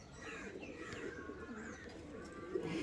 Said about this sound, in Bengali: আর এইটা হলো মাদি পায়রা,